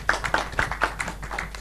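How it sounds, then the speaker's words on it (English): A short burst of applause at a Cisco corporate presentation, scattered hands clapping in an uneven rhythm at moderate volume, with a faint voice underneath. "round of applause for everyone."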